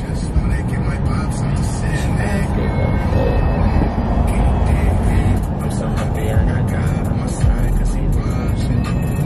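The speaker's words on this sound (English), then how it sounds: "Literally in hella traffic," Heavy car traffic rumbles as a steady low road drone heard from inside a car in dense traffic, continuous and fairly loud, with a brief thump near the end.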